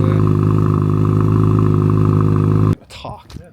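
A 2022 Subaru WRX with a valved exhaust gives a loud, steady engine drone with a gritty, aggressive exhaust note for a few seconds, then cuts off abruptly, leaving faint rustling.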